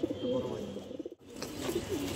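Pigeons of matching colour in a Bengali loft coo softly in short rolling phrases, a few close calls rising over a low murmuring background with faint talk.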